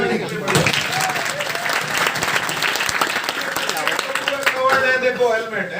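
A college audience at a comedy performance by a traffic police officer claps steadily and loudly throughout, while a voice talks over the applause.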